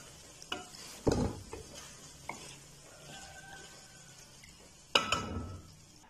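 Ginger chicken is dished out of a pan with a utensil, making a few scraping clinks and two louder scoops over a faint residual sizzle, close by with no voices.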